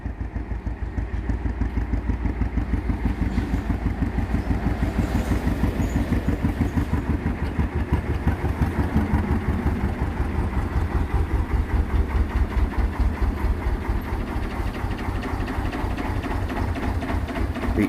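Canal boat diesel engine chugging at Bosley Locks, a steady close rhythmic low thumping that holds throughout with no talking.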